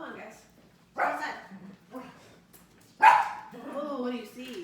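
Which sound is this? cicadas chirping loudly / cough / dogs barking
dogs barking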